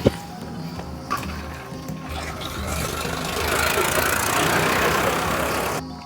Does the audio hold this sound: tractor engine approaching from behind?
yes